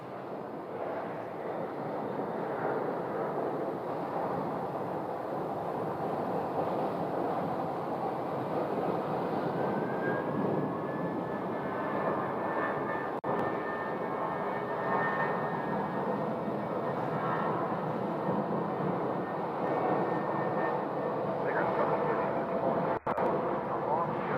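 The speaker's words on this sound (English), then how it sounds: "they've got to go to the left and then spin the plane around from the first gate" Airliner taxiing and turning on the ramp near the gates at Phoenix airport, a steady broad jet engine roar with a faint whine, moderately distant and continuous throughout, with no talk.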